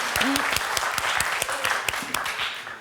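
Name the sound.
applause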